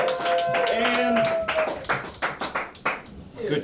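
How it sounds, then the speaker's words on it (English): Comedy club crowd at Downstair Comedy in Richmond, Virginia claps for the next comic, with uneven bursts of clapping under a host's voice and cheering, fading into sparser individual claps. "Keep clapping until he grabs the mic. Keep clapping."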